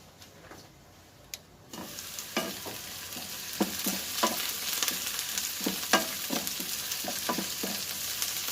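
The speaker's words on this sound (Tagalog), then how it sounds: "2 minutes pa ang pagluto natin sa ating onion." Onions sizzle and fry in a pan for chicken biryani, with a constant soft hiss broken by a string of sharp scraping stir strokes at an irregular pace.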